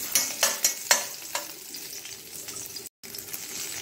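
Crushed garlic fries in oil over a low flame with a steady gentle sizzle, punctuated early by a few sharp scraping stirs that then settle into quieter frying. No voices.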